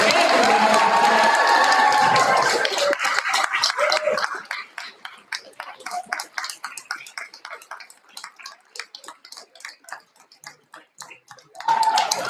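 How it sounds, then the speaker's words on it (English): Sustained crowd applause at a school board meeting honoring Teachers of the Year, loud and dense at first with cheering, then thinning into scattered claps before swelling again at the end. "I think we should give all of our Teachers of the Year one last round of"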